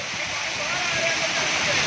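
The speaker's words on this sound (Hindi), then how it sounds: "बारिश को एंजॉय किया जा रहा है" Outdoor rain falls steadily in a dense, broadband hiss, close and even throughout, with no break or change in intensity across the short stretch.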